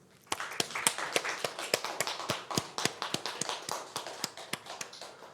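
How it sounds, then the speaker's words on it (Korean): Congregation clapping at an Easter Sunday church service, a steady rhythmic series of sharp hand claps in unison, fairly close and continuous throughout. "부활하신 우리 예수님께 박수로 감사 영광 돌리도록 하겠습니다."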